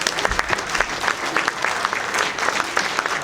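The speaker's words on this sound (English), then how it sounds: "Give them a big round of applause, everybody." A crowd at a Nebraska Truck Center gathering gives a lively round of applause, close and loud, with individual sharp claps popping out of the steady patter.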